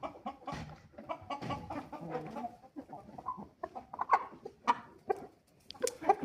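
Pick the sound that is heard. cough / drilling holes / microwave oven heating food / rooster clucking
rooster clucking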